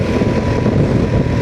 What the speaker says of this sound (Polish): Troszeczkę wieje, nie wiem, czy to słychać.